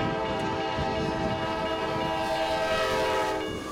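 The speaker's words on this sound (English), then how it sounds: "A train passes through Anytown, Michigan, but it's not only train noise that pierces the everyday quiet" A train passing through a small Michigan town, its horn sounding in long sustained blasts over the rumble and clatter of the moving cars.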